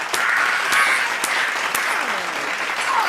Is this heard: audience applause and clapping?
yes